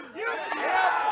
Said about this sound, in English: they are cheering for a walk there